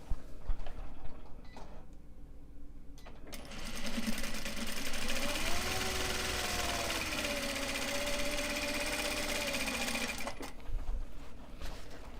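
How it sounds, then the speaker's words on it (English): A sewing machine runs steadily for about seven seconds, stitching the fabric interiors of Japanese fabric pencil pouches, with a continuous mechanical whir and ticking under faint background sounds; nobody speaks. "Now we'll go in and sew the interiors here."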